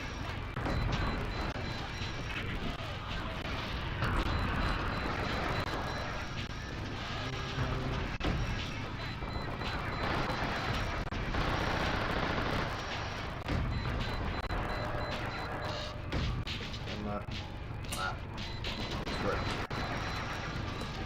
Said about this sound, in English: Alright, so we got those cannons. Now these cannons.